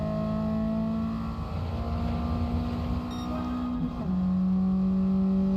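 Car exhaust in the racing game Gran Turismo 7, a loud steady engine drone with a sharp pitch drop as the revs shift, then a settled hum, with no talk.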